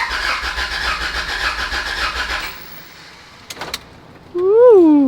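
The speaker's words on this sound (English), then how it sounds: "We're gonna turn the motor a few times just to be safe." A Honda H22 engine cranks over with its distributor disconnected, producing a rhythmic churning drone for a couple of seconds. It then stops into near quiet, a few clicks follow, and a short rising vocal exclamation comes at the end.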